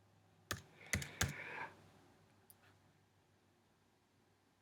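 A few sharp keystrokes on a computer keyboard, three quick clicks close together followed by one faint tap, as letters are typed in a quiet room with no talking.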